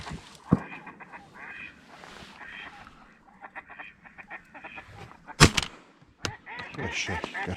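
Ducks and geese quack and honk repeatedly during a duck hunt over a wetland, in irregular bursts both near and farther off, with one sharp loud crack partway through.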